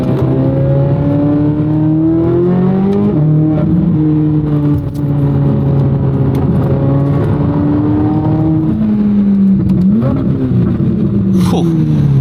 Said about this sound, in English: it's just more of that high-pitched, pure exhaust note versus the induction sound, the more raw sound that you're gonna get from the convertible